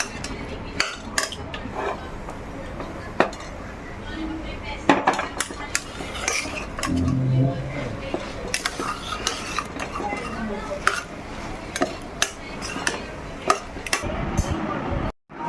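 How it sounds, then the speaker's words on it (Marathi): A metal spoon repeatedly scrapes, knocks and clinks against a pan as a vegetable curry is stirred and sautéed up close. The strokes come in an irregular rhythm, with a faint voice now and then. "आता या भाजीला चांगलं परतून घ्या"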